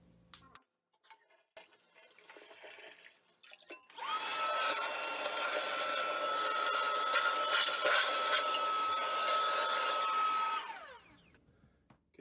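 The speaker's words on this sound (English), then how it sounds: "flush the toilet, and vacuum out the tank" A vacuum hose sucks water out of a toilet tank in a loud, steady gurgling hiss that starts abruptly, runs for several seconds and then cuts off, bracketed by quiet handling noises.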